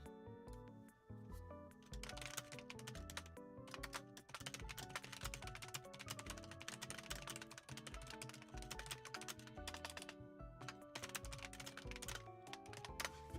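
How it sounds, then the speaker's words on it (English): Fast typing on a computer keyboard, a dense run of close, crisp key clicks with occasional harder strikes, continuing almost without pause for the whole stretch. "that's me, like, actually typing"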